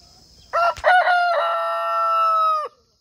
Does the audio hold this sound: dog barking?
no